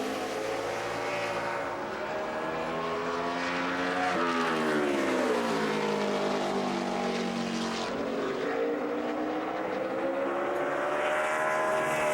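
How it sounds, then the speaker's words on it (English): A NASCAR race car screams around the track on a qualifying lap at the 2012 Federated Auto Parts 400, a loud, sustained high-revving engine whose pitch sags and climbs as it brakes and accelerates through the corners. "Love listening to the engine scream around here."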